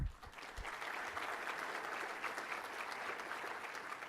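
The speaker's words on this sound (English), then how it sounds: "I think we need that Johnny Carson applause sign that comes up" An audience at a university State of the University address applauds, a dense, steady wash of clapping that holds for about four seconds.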